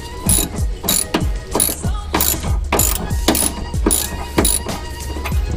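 A ratchet wrench tightens a nut on a sway bar end link of a Dodge Viper GTS ACR, giving about a dozen crisp, quick ratcheting clicks in a steady back-and-forth rhythm, close and clear with no talking.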